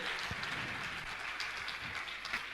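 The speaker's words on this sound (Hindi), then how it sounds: "मैं चाहूंगा इनके सम्मान में आप जोरदार ताली बजाकर इनका सम्मान करें।" Applause from an audience at a Jain religious gathering, steady and faint, a soft continuous patter of many hands heard from a distance.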